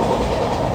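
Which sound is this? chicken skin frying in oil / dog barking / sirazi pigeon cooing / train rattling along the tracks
train rattling along the tracks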